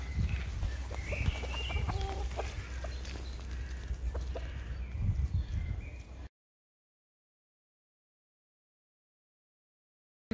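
Chickens in a zoo enclosure cluck and squawk close by for about six seconds, a busy overlapping flock, then the sound cuts off into silence.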